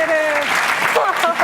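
Brief burst of audience applause for youth forum participants, dense and close, with voices and shouts mixed over the clapping.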